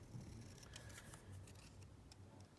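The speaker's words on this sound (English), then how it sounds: "I'm just going to cut out a couple of other bits here." Paper bits being cut out with scissors for a junk journal pocket kit, a steady run of soft, close snips and rustles with a low background hum and no talking.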